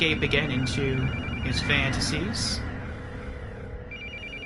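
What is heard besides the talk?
phone ringing in a video game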